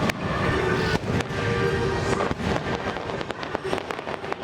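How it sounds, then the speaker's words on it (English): Fireworks booming at a Disney Halloween party, a dense run of sharp bangs and crackles filling the whole span, loud and close amid crowd noise. "It's loud everywhere when they do the fireworks."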